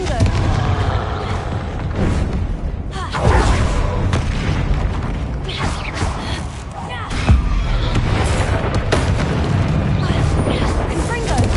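Confringo explosive spell blasts in a video game, deep booming bursts and rumbling impacts recurring across the stretch, loud and close, with a voice talking over them.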